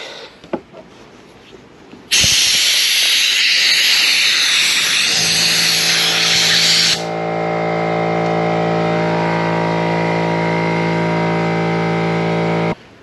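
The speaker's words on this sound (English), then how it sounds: "the compressor kicked on" An air compressor in a garage abruptly starts with a loud hissing burst that settles into a steady motor drone with a sustained tonal hum, running for about ten seconds before cutting off, with no talking over it.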